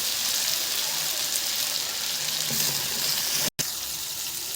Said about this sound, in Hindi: मसाला थोड़ा जल रहा है तो मैं थोड़ा सा पानी ऐड करूँगी।